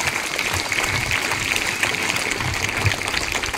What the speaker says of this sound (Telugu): గట్టి చప్పట్లు ప్లీజ్